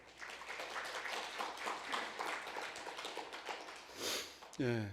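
A congregation at a church worship service applauds steadily, dense clapping sustained for several seconds at moderate volume, ending with a brief voice at the close.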